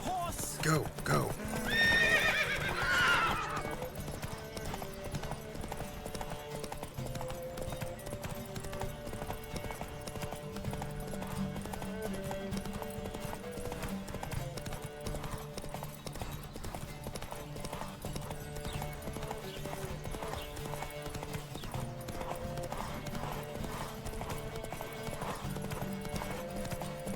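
Several horses gallop in a race through The Witcher 3, hooves clip-clopping in a steady rapid rhythm throughout, with a neigh near the start and game music and voices over the hoofbeats.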